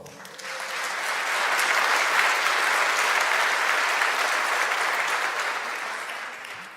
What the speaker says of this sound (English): Round of applause for Adesso.